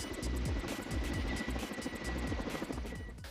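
A Russian-made Kamov firefighting helicopter spins up its engine ahead of a wildfire deployment, with a steady, loud whine and a rhythmic rotor chop thumping throughout, close by.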